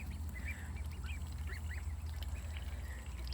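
Ducklings peep and chatter softly as they bathe in a drinking-water container, over a steady low hum and gentle splashing, continuous throughout.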